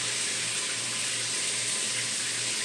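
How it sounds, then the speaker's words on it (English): Hot shower water runs steadily over frozen chicken wings to rinse them, a loud, even rushing spray that continues unbroken throughout. "So let's just let them sit in the shower and rinse."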